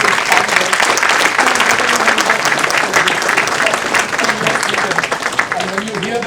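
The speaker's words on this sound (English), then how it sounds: "Let's give a round of applause for the" Sustained audience applause at the inauguration of SAKEC's space weather prediction centre in India, honouring the founders, a dense steady clatter of many hands with some voices mixed in throughout.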